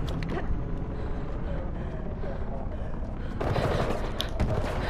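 An enemy gunner fires in Mirror's Edge Catalyst, a steady roar of automatic gunfire blended with wind and game noise, swelling louder toward the end.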